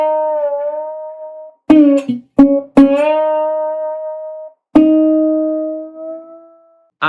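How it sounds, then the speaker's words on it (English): A steel-bodied resonator guitar played with a slide, giving sustained gliding notes with a bright metallic tone and a few sharp plucked attacks, heard alone and close. "the star of the track is the resonator, meaning it's made of steel and often played with a slide."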